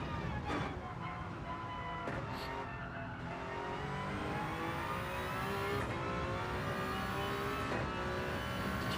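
A race car in a WEC-style endurance racing game on Trial Mountain accelerates out of a corner. The engine note climbs steadily through the gears with brief shift dips, heard as a steady, moderately quiet onboard drone.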